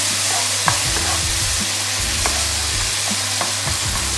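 Seasoned meat for a protein bowl frying in a pan and stirred steadily, with a loud close sizzle and recurring scrapes of a utensil over a low constant hum.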